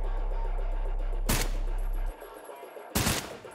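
Gunfire in the first-person shooter Trepang 2: two loud, brief bursts of shots about a second and a half apart over a steady low game hum, with no talking.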